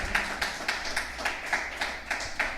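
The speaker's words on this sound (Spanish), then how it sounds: "Dale un aplauso al Señor porque Él es grande y maravilloso" Church congregation clapping in praise during a sermon, sharp rhythmic claps in an even beat of about four per second, moderately close and without talk over them.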